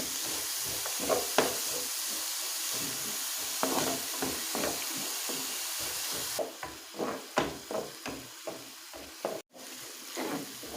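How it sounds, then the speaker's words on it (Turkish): Chopped onions and coarsely chopped garlic sizzle and crackle steadily in a hot pan, with intermittent scraping stirs over a constant frying hiss. "Sarımsağımıza ekledikten sonra güzelce bir soğanlarımızı, sarımsağımızı kavuralım."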